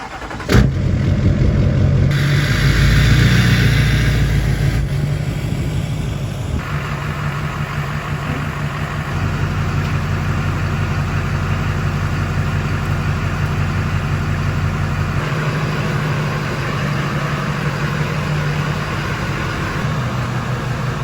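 A 9-inch lifted pickup truck's engine starts and idles loudly and steadily as it pulls slowly into a garage, a deep continuous rumble with a brief rev near the start.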